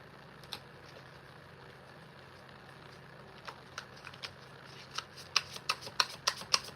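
Tarot cards shuffled by hand, starting as soft scattered flicks over a low room hum and building to a quick, fairly regular run of crisp card snaps near the end.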